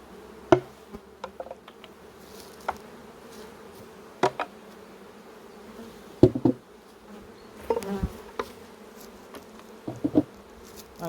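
Honeybees buzzing around an opened hive during queen rearing work; a steady low drone with individual bees passing close by, broken by occasional knocks and clatters of hive parts being handled.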